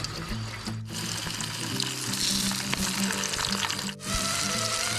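Sausages and fried eggs sizzling in a pan for breakfast at a tent campsite, a loud, continuous frying crackle with an underlying hum and short breaks in the texture, no talking.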